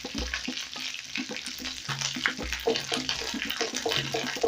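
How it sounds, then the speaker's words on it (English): Garlic frying in butter in a pan for a Kenyan mukimo wa njugu dish, giving a steady close sizzle with stirring scrapes and soft clinks throughout. "Then I'm going to fry my garlic till it's fragrant."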